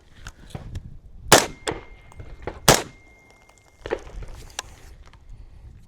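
Two sharp, loud reports from a gun fired unsuppressed ring out close by, a few seconds apart, with a few softer metallic clanks and thumps between them.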